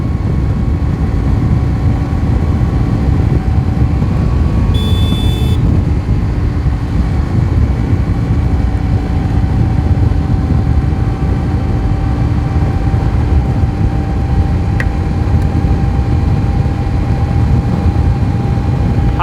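A Hero Super Splendor BS4 motorcycle held near top speed in fourth gear gives a loud, continuous engine drone with a steady pitch, buried in constant wind roar throughout.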